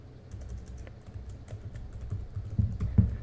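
A password is typed on a computer keyboard, a quiet run of close key clicks that grows busier and slightly louder toward the end.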